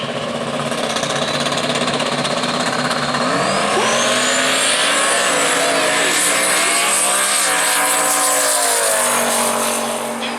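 Ford Mustangs, a 1990 car among them, drag race at Worldwide Technology Raceway, their engines roaring loudly and climbing in pitch through hard acceleration, with crowd and track noise around them.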